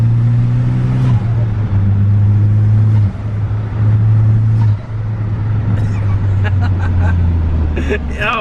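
A K-swapped Honda Civic EG hatchback's engine drones loudly and steadily, its pitch shifting between a few held levels as it pulls along, with faint crowd-like chatter in the background.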